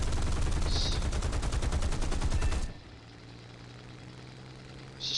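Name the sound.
machine gun fire in War Thunder video game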